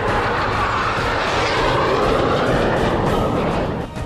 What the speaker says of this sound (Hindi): अपने सबसे बड़े न्यूक्लियर बॉम्बर Tu-160 को बेरेंट सागर के ऊपर उड़ाया है